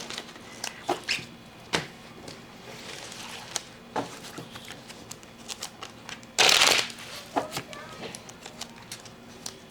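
Cards are shuffled and riffled close by in quick bursts, with a louder flurry partway through, and faint soft sounds between.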